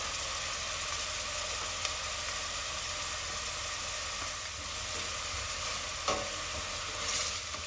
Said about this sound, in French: Une fois que j'ai bien fait revenir les oignons, je vais rajouter l'ail.